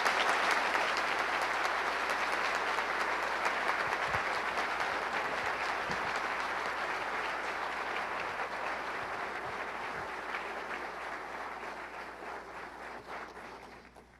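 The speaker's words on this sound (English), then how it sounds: "A round of applause for the iTech team." A large audience at a 1995 ceremony honoring the Corona satellite pioneers applauds the iTech team, a dense, sustained wash of clapping that stays loud throughout and fades slightly toward the end, with no voices over it.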